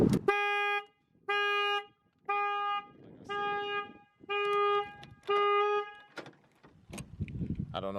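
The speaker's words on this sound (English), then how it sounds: "Oh man, the horn is loud." A loud Toyota FJ Cruiser horn blasts repeatedly in short bursts, roughly six honks with brief gaps, close by, followed by some clatter.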